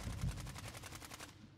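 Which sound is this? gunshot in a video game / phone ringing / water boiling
gunshot in a video game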